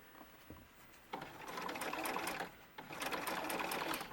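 A sewing machine stitches a bustier for a ball-jointed doll, its needle running in steady rapid bursts that start, pause briefly and resume, close and fairly loud with no talking.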